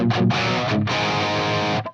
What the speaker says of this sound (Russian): Вот насколько яркий инструмент сам по себе.